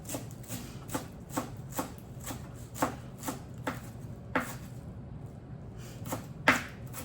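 Knife chopping fresh cilantro, stems and all, on a cutting board: a steady series of about a dozen crisp, close knocks at a brisk, even rhythm, quiet overall with no talking.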